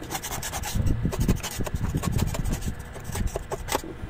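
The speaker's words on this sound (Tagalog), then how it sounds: "kuskusin na lang natin ng mabilisan" A flood-soaked inlet valve circuit board being scrubbed briskly with a brush, making close, rough rubbing strokes in a quick, irregular rhythm.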